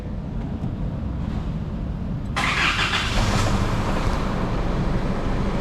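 A 2017 Isuzu MU-X diesel engine idles steadily at close range. About two seconds in, a sudden broad hiss or rise in engine noise joins it and stays, with no talking.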